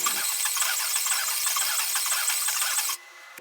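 Welding on a motorcycle battery tray in a home garage gives a loud, steady crackling hiss that runs for about three seconds, then cuts off abruptly, leaving a faint hum.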